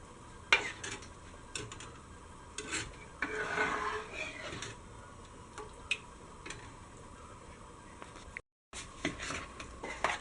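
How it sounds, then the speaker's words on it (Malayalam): Kerala-style halwa batter stirred into a thick paste, a soft repeated scraping and rasping of a spoon against the pan, faint and close with light clinks. "ഇനി ഇത് ഒരു തിക്ക് പേസ്റ്റ് ആവുന്നവരെ നന്നായിട്ട് ഇളക്കി കൊടുത്തുകൊണ്ടിരിക്കുക"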